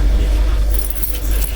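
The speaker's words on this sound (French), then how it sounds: "Je vais utiliser le fouet danois." A Danish dough whisk works through a soft dough mixture in a home kitchen, giving a steady, close metallic jangling and scraping over a low background rumble, with no speech.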